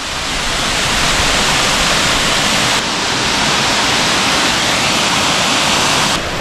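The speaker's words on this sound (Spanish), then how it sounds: "La poza está increíble, cae agua." Water falls into a natural pool with a loud, continuous, close rushing roar that fills the whole stretch without a break, and no voices are heard.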